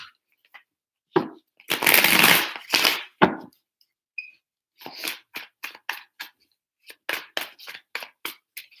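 Tarot cards are shuffled in several bursts: a long riffling rush, then a series of quick, crisp snaps and flicks separated by short pauses, close by.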